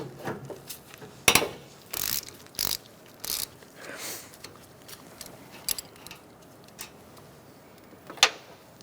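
Ratchet wrench clicking as a bolt is loosened from the AC condenser line fitting on a 2004-2009 Mazda 3, with several short bursts of ratcheting separated by quiet pauses and faint clanks nearby.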